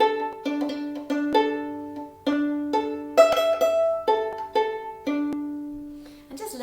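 Violin strings are plucked pizzicato in a short, simple tune: about a dozen separate plucked notes, each sharp at the start and quickly fading. They sound close and clear, with no talking.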